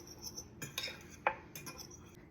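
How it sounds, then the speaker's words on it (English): A utensil stirs kosher salt into a low-carb, gluten-free mixture in a bowl, with a few light metallic clinks and scrapes of cutlery against the dish, close and fairly quiet. "Just gonna add a little pinch of kosher salt. And I'm gonna stir this together."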